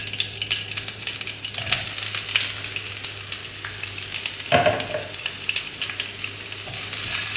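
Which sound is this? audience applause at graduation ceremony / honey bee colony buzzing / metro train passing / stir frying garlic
stir frying garlic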